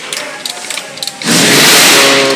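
A packing machine for iron parts gives a few light clicks and taps, then starts up in a loud, steady, broadband roar that continues to the end.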